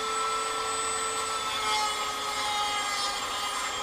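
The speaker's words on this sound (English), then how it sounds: "I'm going to go to a 60 grit drum and see how quick I can go through this brass on this" Dremel fitted with a 60 grit sanding drum grinding down brass, a steady close high-pitched abrasive whine that holds constant without pause.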